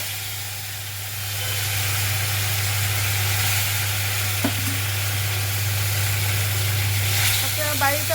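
Moong dal tipped into hot tempering in a pan, giving a loud, steady sizzle with hiss and stirring scrapes over a constant low hum, nearby, with no talk.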